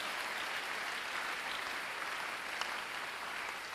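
A church congregation applauding during a sermon, a dense, steady wash of clapping from many hands, moderately distant and unbroken.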